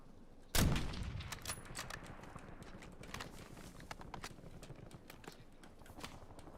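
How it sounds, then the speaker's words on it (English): Gunfire in a video game from shooters inside buildings opens with one sharp loud shot, followed by a steady run of faint rapid cracks and pops that continue to the end. "They're all shooting down here. Inside of those buildings."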